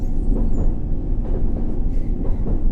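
Subway train running on the District Line in World of Subways 3, a steady loud low rumble with faint rail clatter throughout, no voices over it.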